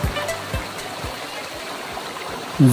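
Zenith Waterfall near Khopoli: a steady, broadband rush of water roars continuously, with a few low thuds beneath it and a brief louder burst at the very end.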